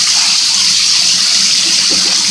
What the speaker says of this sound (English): she goes into the stream of the shower